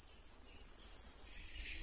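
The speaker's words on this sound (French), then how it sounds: "Les cigales font un récital." Cicadas in a Madagascar jungle hold one steady, shrill electric drone without a break, with softer insect buzzing beneath and no voices.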